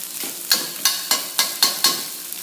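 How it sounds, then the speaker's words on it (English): Fried rice stir fried in a pan, with six or so sharp sizzling bursts in a steady rhythm as the rice is pressed and flattened against the hot oiled surface, close and fairly loud. "Okay, and I flatten it against the pan, increasing the surface area."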